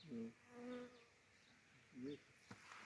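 Faint bee buzzing drifts in and out at low level, with a few soft humming swells and quiet background noise.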